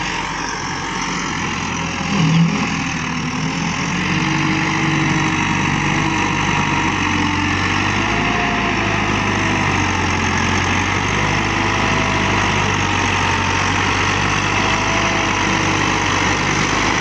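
A 2018 Massey Ferguson 385 tractor runs steadily with an 11-tine cultivator attached, its diesel engine giving a continuous low rumble close by, with no voices over it.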